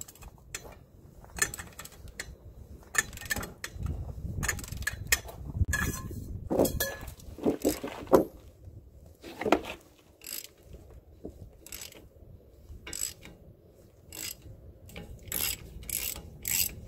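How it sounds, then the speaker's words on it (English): A hand ratchet loosening the CV axle nut on a 2012 Toyota Corolla, giving repeated bursts of rapid metallic clicking in uneven strokes, close and fairly loud, with short pauses between pulls. "so I got that nut off. It's a little bit of work with just a ratchet."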